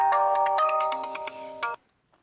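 A mobile phone ringtone plays alone as a loud, bright electronic melody of quick repeating tones for about two seconds, then cuts off into near silence.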